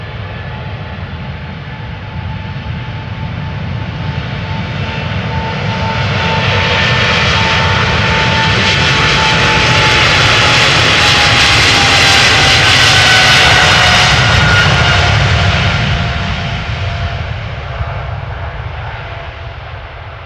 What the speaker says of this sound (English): Air Canada Flight 809 going to Toronto, Canada.